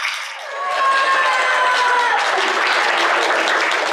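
Thunderous applause from an audience at a school theater show's finale swells after a brief dip and holds strong and continuous, with a few cheers mixed into the dense clapping.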